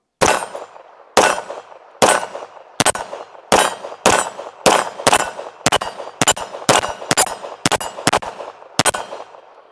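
A Ranger Arms RA 9 pistol fires CCI Blazer rounds at steel targets, fifteen sharp reports coming at a steady pace and then faster, each followed by a metallic ring.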